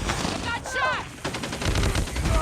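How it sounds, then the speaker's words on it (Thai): Rapid automatic gunfire in the Call of Duty Mobile game, on a 10v10 Shipment match, rattles in loud close bursts, with a brief whooshing effect partway through and heavy firing continuing to the end. "โอ้โหโดนยิง รัวเลยนะ"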